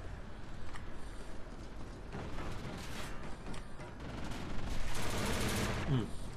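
Video game gunfire from Call of Duty: Infinite Warfare, bursts of automatic weapon fire crackling over a constant dense battle din, with a louder cluster near the end and a player talking now and then.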